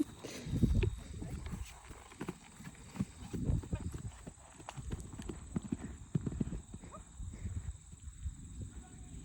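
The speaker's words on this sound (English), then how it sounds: "And now we started cantering to the left." A young, still-green draft horse canters across a field, hooves thudding in a steady rolling three-beat rhythm, close but soft, with some rider movement and breathing around it.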